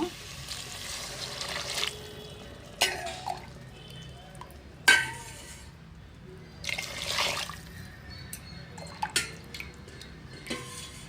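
Water is poured into a pot for a vegetable bath rice dish in several short splashing bursts, with drips, pot clinks and quiet pauses between pours, close by and moderately loud.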